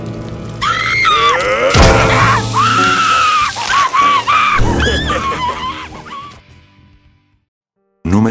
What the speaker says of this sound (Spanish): Cuando Petunia está siendo quemada en la parrilla, se la puede escuchar gritar claramente